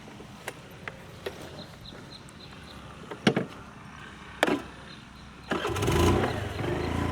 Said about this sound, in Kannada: ಇವಾಗ ನಾನು ಗಾಡಿ ಎತ್ಕೊಂಡು ಹೋಗ್ಬಿಡ್ತೀನಿ.